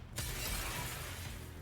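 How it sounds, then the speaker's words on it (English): Glass shatters in a video game with a sudden loud crash, followed by a sustained glittering spray of breaking shards that stays loud for over a second, heard alone. "The familiar and terrifying sound of glass breaking fills the air."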